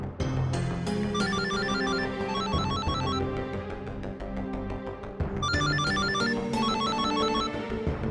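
A telephone rings with a repeating electronic ringtone melody, bright trilling notes in two phrases separated by a brief pause, loud and steady over a busy musical backing.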